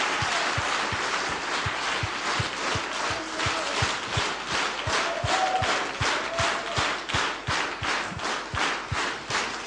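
Audience applause at a church gathering, a sustained wash of many clapping hands settling into a rhythmic, evenly paced unison beat that continues for nearly ten seconds.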